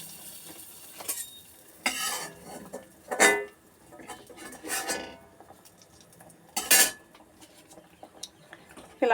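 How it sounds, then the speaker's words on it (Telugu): A thick cooking mixture is stirred in a pot, spoon scraping and clinking against the metal in irregular bursts, close and fairly quiet, with soft bubbling between strokes. "ఇది దగ్గరగా ఉడుకుతుండేటప్పుడు కలుపుతూ ఉండాలండి."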